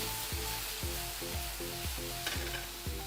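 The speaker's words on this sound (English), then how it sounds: "now we're going to add a little bit of our marsala cooking wine, and this might get a little bit of fire here in a second" Mushrooms sizzle steadily in a hot pan after marsala cooking wine goes in, with a continuous frying hiss broken by a regular scraping rhythm of stirring, close and loud.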